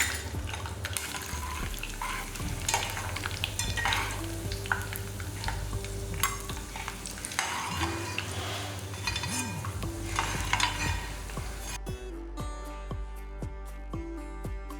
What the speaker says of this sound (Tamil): இதையும் நல்லா வறுத்துக்கலாம்